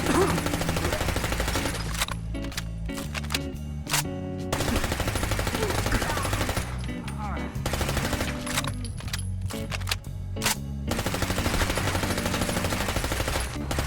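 Rapid automatic gunfire in the video game Fallout 4, a player emptying a full magazine at Bear Hill Steel enemies: loud, dense bursts of shots that run almost continuously, broken by a few short pauses.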